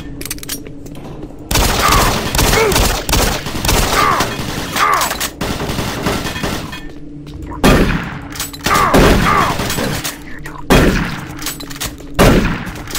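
Gunfire in the first-person shooter Doom 3: heavy, loud shots burst out in close, rapid volleys, with short pauses between clusters of blasts and booming impacts.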